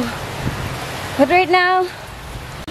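Steady, even hiss of heavy rain from Typhoon Quinta falling at a Bali-inspired resort in Camarines Norte, continuous throughout and heard beneath a person speaking.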